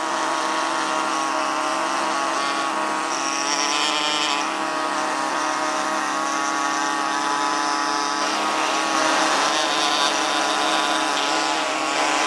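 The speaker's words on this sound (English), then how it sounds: "These tools can be adjusted by shutting the airflow down so that the frequency drops." Pneumatic air scribe working on a Triceratops skull in a fossil prep lab, a steady, loud high-pitched buzzing hiss that runs without pause, its pitch shifting slightly as the airflow is adjusted.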